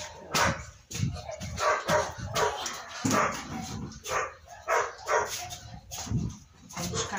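Dogs barking at home near a clothesline, repeated loud barks and yips over several seconds, mixed with someone talking nearby.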